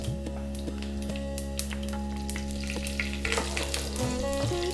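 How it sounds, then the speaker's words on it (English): Black mustard seeds and fennel dropped into hot mustard oil for a lamb bhuna curry, sizzling and crackling under a steady hum, with scattered light pops and scrapes close by. "Let's start off by dropping in the black mustard seeds and the fennel."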